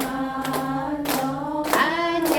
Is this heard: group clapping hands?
yes